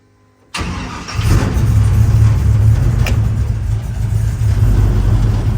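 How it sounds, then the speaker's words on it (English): An old 1956 Chevrolet 3100 pickup that has sat unused cranks briefly after a moment of silence, then fires and settles into a loud, steady, slightly uneven idle close by. "let me start it for you"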